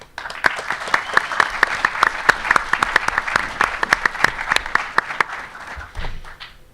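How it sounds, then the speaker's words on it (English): Applause at a community tech policy forum for New York City mayoral candidates in Queens, honoring partner organizations: a smattering of distinct, fairly sparse hand claps with audible gaps, steady for several seconds and tapering at the end. "please give a round of applause to our partner organizations"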